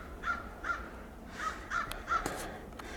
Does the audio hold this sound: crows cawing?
yes